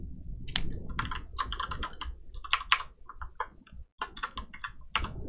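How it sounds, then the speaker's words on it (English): Rapid typing on a computer keyboard, close and alone, with dense irregular clicky keystrokes and a brief pause near the end. "Having trouble typing."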